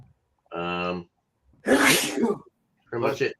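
A single sharp sneeze bursts out in the middle, between short stretches of nearby talk, during a casual beer tasting.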